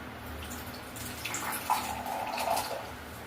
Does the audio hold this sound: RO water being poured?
yes